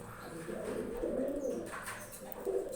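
Giribaz pigeons coo on a rooftop loft, a soft, low, rolling murmur that rises and falls continuously at close range against faint background noise.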